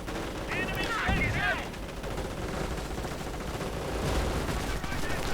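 Heavy machine gun fire in a real-time strategy war game rattles in rapid bursts amid other battle sounds, loud and dense, with continuous combat noise behind it.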